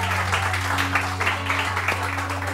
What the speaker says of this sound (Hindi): बहुत सारी तालियां, बहुत सारी तालियां